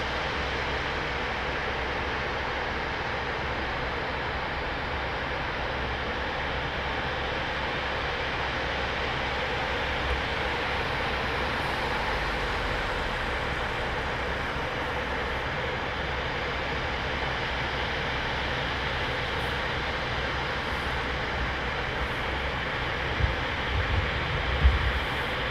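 An RAF Typhoon fighter jet taxiing at RAF Coningsby, a steady, broad engine roar and whine held throughout at moderate distance, with no talk.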